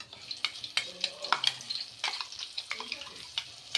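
Ground spice paste of sesame, tomato and ginger sautéed in a pan for aloo dum, a faint crackling sizzle broken by frequent light spoon scrapes and taps.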